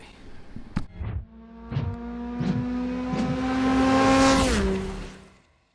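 BMW E30 car engine warming up, heard up close as a steady tone that rises into a sustained rev and then drops away, broken by a few short knocks and thumps early on, with no talking.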